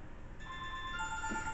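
A mobile phone rings with a short electronic ringtone of steady sustained tones over a low indoor background hum, close and moderately loud.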